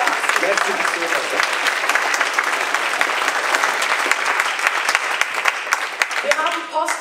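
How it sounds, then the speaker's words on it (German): Loud, sustained audience applause at an awards ceremony runs unbroken for about seven seconds as a thick wall of clapping, with some voices mixed in near the end. "Herzlichen Applaus"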